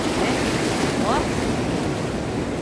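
Ocean surf at a sunny beach, a steady broad roar of water with wind buffeting the microphone, loud and continuous throughout.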